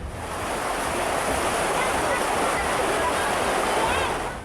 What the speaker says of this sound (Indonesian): Jebolnya tanggul Sungai Tuntang membuat air mengalir deras, membanjiri persawahan dan permukiman warga.